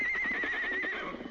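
Silver, the Lone Ranger's horse, gives one loud, shrill whinny that wavers for about a second and then fades, with faint hoof sounds beneath.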